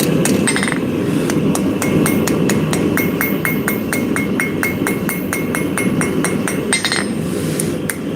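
Light, quick hammer taps ring on a blade being forged, a near, bright metallic clinking in a steady rapid rhythm that continues throughout over a loud roaring background hum.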